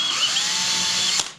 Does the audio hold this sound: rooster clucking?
no